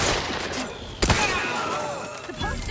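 Gunfire rings out in a shooter game, The Outer Worlds 2, with a dense burst of shots and a sharper crack about midway through.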